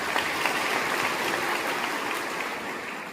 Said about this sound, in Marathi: मुफद्दल सरांसाठी पण एकदा जोरदार टाळ्या